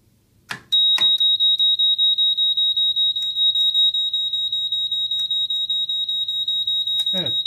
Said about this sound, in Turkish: Cihaz on konumundaysa sistem üstteki alarm lambasını da flaş yapmaya başlayacak ve buzzer'ı da devreye alacak.